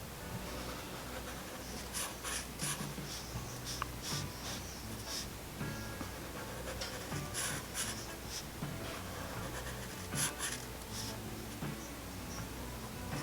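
A pen scratching across paper while drawing the three-dimensional sides of bubble letters, close and continuous, with short strokes, scritches and brief pauses throughout.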